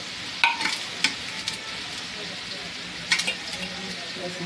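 Fresh grated coconut being stirred into cooked cauliflower and pea vegetables in a pan, with a few distinct spoon scrapes and clatters over a soft background sizzle.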